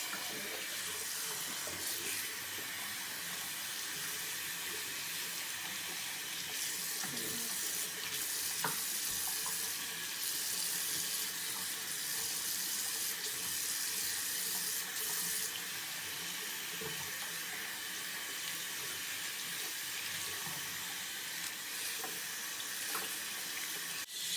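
A tap runs steadily into a sink as a tie-dyed T-shirt is rinsed under it, a continuous hiss and splash of water lasting throughout with no talking.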